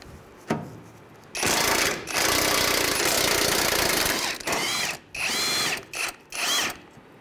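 A power tool whirs in several loud, close bursts as it spins off three 14 mm strut top nuts on a 2003-2011 Honda Element, with brief pauses between runs.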